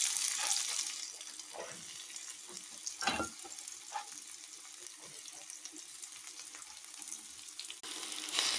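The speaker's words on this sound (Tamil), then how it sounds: "வெங்காயம் போடுவோம்." Chopped onions drop into hot oil with mustard and fennel seeds in a pan for pumpkin curry, raising a steady loud hiss and crackle with a few clatters of stirring, then the sizzle swelling again.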